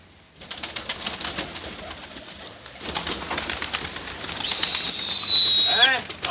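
A flock of about a hundred pigeons takes off and circles, wings whirring and birds cooing, the sound swelling louder toward the end with a sharp whistle near the close.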